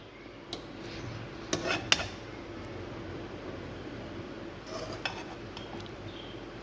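A pot of vegetable palao is uncovered and handled, with faint metallic clinks and a few sharper clanks of lid and utensils over a quiet background hum.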